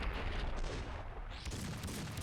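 Dense, booming shotgun fire from Max Payne 2 rolls continuously, loud and close, with blasts blending into a heavy rumble.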